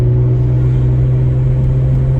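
A BMW 135i's twin-turbo N54 engine holds a steady, loud idle-like drone with strong low harmonics, with no rise in pitch, alone and close for about two seconds; the car has a boost solenoid problem.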